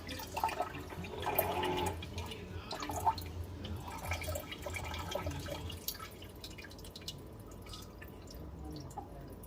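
Water trickles and drips through a media reactor on a reef aquarium, a soft, continuous gurgling flow with irregular splashy drips, fairly quiet and close, with no voices.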